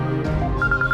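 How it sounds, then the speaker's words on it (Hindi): A phone rings in a dramatic indoor scene, a repeating electronic ringtone chiming several times in quick succession over low background music. "करो फोन, करती रहो फोन। में नहीं उठा रहा हूँ।"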